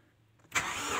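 A Toyota 1JZ-GE engine is cranked and fires up, a brief quiet moment giving way to a sudden burst into a loud, steady running roar heard close by.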